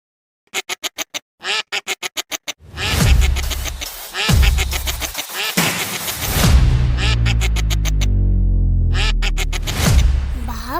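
Cartoon ducks quack in quick bursts, a rapid run of short calls at first, then louder overlapping squawks and scratchy cartoon effects filling the rest of the stretch.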